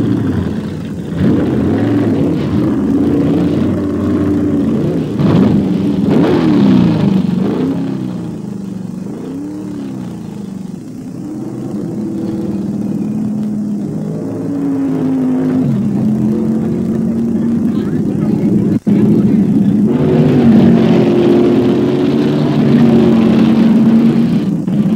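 Can-Am race cars with Chevrolet engines practicing at Laguna Seca in 1971, big engines roaring and revving as cars pass and shift, rising and falling pitch over a continuous loud track din.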